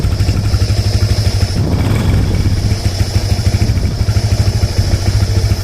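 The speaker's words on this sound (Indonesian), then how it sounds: "mari coba kita hidupkan untuk mesinnya" A 2014 Yamaha Vixion NVL motorcycle engine runs close by at a loud, steady idle with a rapid mechanical pulse and light clatter, a slight swell of revs midway, no voices.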